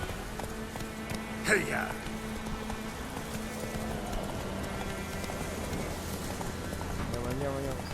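Steady clip-clop of horse hooves trotting in The Witcher 3, continuous and moderately loud beneath someone talking and a shouted call urging the horse on.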